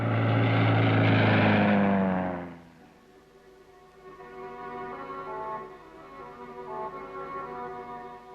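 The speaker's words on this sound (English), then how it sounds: "The patrol maintains contact with Australian Army spotter planes, or bird dogs" A propeller-driven Australian Army spotter plane flies over during the Vietnam War, its engine drone loud and near at first, then falling away quickly to a softer, steady hum in the distance.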